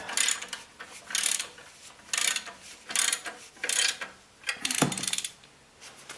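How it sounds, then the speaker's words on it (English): A ratchet wrench clicks in four or five short bursts as it tightens the belt back plate bolts on a DC 1260, close and crisp with brief pauses between, ending in a sharp metallic knock. "I've got the belt back plate bolts back in, and just tighten them down"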